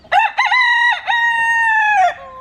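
A farm rooster crows close by in one loud call. It opens with two short rising notes and then holds a long strained tone that breaks off at the end.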